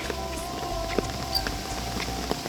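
Steady rain patters in a continuous broadband hiss, with faint scattered drips and taps on top, at an even level throughout.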